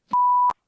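A single steady electronic-sounding beep, imitated by a voice, holds one pitch for about half a second with soft breathy edges.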